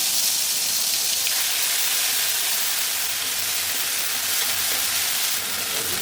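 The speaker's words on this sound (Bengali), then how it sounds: "সরষের তেল, এক 5 শুকনো মরিচ, একটু জিরে ফোড়ন দিয়ে দেবো।" Dry chillies and cumin tempering in hot mustard oil, a loud, steady, dense hiss and crackle that holds unbroken throughout at close range, with no talk.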